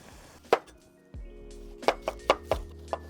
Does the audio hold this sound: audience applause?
no